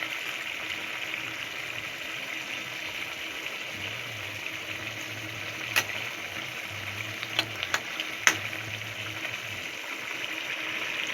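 A pot of chicken bone curry with fried potatoes simmers with a steady, soft bubbling hiss and a low hum underneath, broken by a few faint clicks, with no voices.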